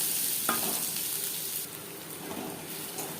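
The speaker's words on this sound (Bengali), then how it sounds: "পেঁয়াজ লালচে করে ভেজে নেব" Two large onions frying in three spoons of refined oil, a dense continuous sizzle with a brief clatter near the start, close and fairly loud.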